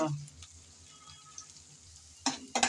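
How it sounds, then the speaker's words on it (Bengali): Radish greens and slit green chillies stir-fry in a pan with a soft, faint sizzle, then two sharp bursts of scraping and stirring near the end. "সব একসাথে কিছুক্ষণ নেড়ে চেড়ে ভেজে নেব।"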